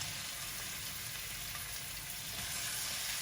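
Chicken wings marinated in soy sauce, pepper and ground garlic fry in a pan with a loud, continuous, even sizzle that fills the whole moment without pause.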